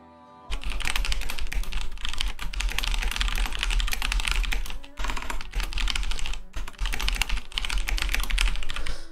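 Fast, continuous clattering of keys on a Black Widow mechanical keyboard, dense loud typing with a couple of brief pauses.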